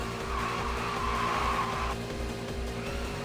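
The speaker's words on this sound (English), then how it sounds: "Doesn't help that I can barely listen to it because of this fucking screeching of this car" Sustained tire screeching from a Toyota Levin AE85 drifting in the Initial D Arcade Stage Ver. 3 racing game, a loud continuous squeal over steady engine drone, shifting pitch partway through, with no talking.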